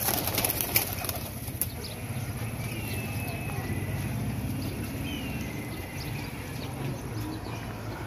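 Soft Teddy pigeon coos and a brief flutter of wings sit under steady background noise and nearby voices, with faint traffic in the distance.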